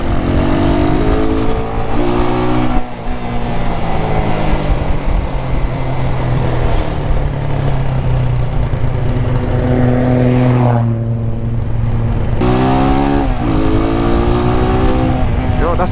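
A rebuilt, previously crashed motorcycle engine revs up and down repeatedly, loud and close, with a throaty exhaust note that swells and drops in pitch over a constant idle rumble.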